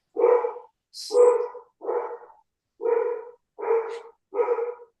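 A dog barks six times in an even rhythm during an online meeting. The barks are clear and fairly close, with no talk over them.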